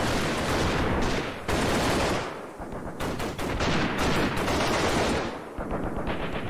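Suppressing gunfire in a war video game, loud sustained automatic bursts that stop briefly and resume in a dense, close barrage.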